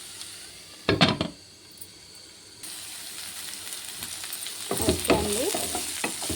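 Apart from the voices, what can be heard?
onion frying and being stirred in a pan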